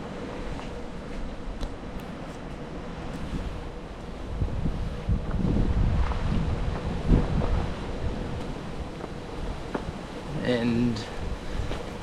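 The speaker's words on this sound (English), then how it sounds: "It's been raining, it's very windy" Strong gusting wind buffets the microphone on a rainy mountain hike toward Mount Eliza on Mt Anne in southwest Tasmania, a steady low roar that swells midway, with a brief voice near the end.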